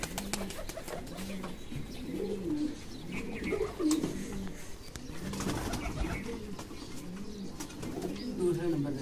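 Domestic pigeons coo repeatedly in soft, rolling phrases, close by, over faint background noise.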